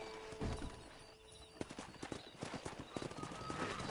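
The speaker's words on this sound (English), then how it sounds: "Let's see if we can't wrangle some horses." Video game horses' hooves clip-clop in a busy rhythm, with snorts and a whinny over a faint, distant background of voices.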